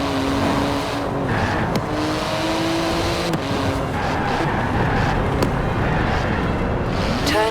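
Twin-turbo 3.8-litre flat-six sports car with carbon-fibre body, about 700 horsepower, driving steadily in Forza Horizon 4 through Edinburgh, a continuous loud engine drone with shifting pitch and a few sharp transients, with faint bells in the background.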